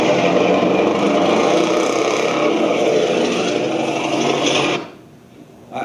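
A truck engine roars as steady, broadband noise, loud and close, then cuts off sharply near the end, leaving near silence with no speech.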